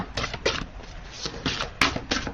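Large tarot cards are shuffled by hand, giving a run of soft papery riffles and slaps in irregular bursts close by, with faint background hiss and no talk over them.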